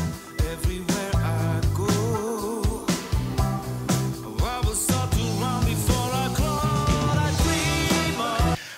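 Full song mastered through the Shadow Hills compressor plugin from Plugin Alliance, a dense mix with punchy drums, bass and melodic parts playing continuously at an even, controlled loudness, no talking.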